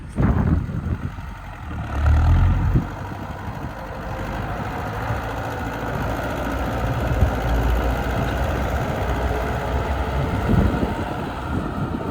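An MTZ-80 tractor engine idles on a snowy day, a steady low diesel rumble with wind buffeting the microphone and a brief louder surge near the start.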